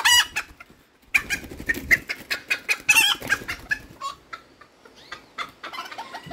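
A small bearded bantam rooster clucks close by in a series of short, sharp, irregular calls, with a brief pause, then more clucks trailing off near the end.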